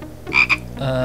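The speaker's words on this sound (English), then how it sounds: "Is that a frog?" A frog croaks twice in quick succession in the point-and-click adventure game Simon the Sorcerer, a short, close, throaty call that stands alone over a faint low game background.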